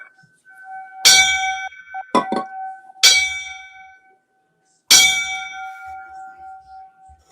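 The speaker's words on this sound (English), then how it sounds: "Kev, you want to give him the bell?" A memorial bell is struck five times for a fallen firefighter, with clear, ringing metallic clangs at uneven intervals, each left to decay. Two strikes fall close together, and there is no talk over them.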